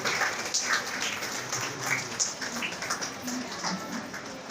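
An audience claps to welcome the Australian Consul General at a women entrepreneurs' event, a brief spell of scattered, fairly close applause with some indistinct voices mixed in.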